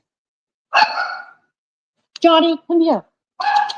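A pet dog gives a few short barks and yips in separate bursts, close and fairly loud, between brief spoken words from a woman calling it.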